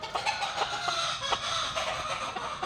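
A white straight comb gamefowl clucks in short repeated bursts at close range, joined by other chickens and a faint crow in the background, with no talk.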